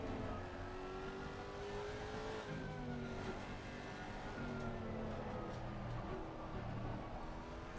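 A car engine in a racing video game, revving steadily through gear changes with rising and falling whine, continuous and close, with no voices.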